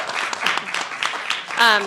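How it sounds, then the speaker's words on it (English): A small audience at a public panel on free speech and local news gives scattered, brief claps after a speech, mixed with nearby talking and murmuring. "Ooh, we got some claps."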